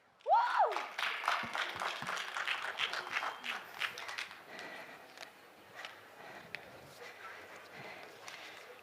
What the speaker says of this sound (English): Let's please give her a huge round of applause